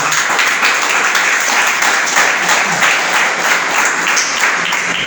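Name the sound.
congregation applause for the Lord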